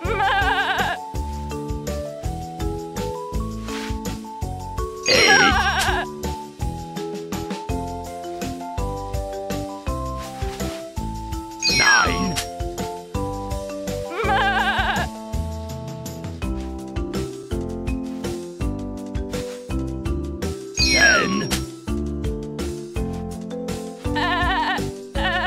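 Cartoon goat bleats in a Sesame Street video game, a few distinct bleats recurring at intervals over a continuous bed of cheerful game music.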